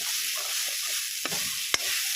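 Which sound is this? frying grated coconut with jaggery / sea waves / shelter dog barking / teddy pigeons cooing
frying grated coconut with jaggery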